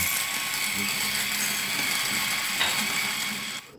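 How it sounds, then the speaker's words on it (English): An electric coffee grinder grinding beans runs with a steady mechanical grinding whir at close range, then winds down and cuts off near the end. "Just going to grind up a dose of coffee"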